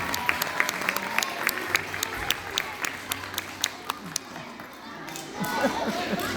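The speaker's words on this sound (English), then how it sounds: "Let's give them a round of applause." A school audience claps for young students after a reader's theatre show, with distinct claps popping through dense applause that thins and fades near the end as chatter and movement rise.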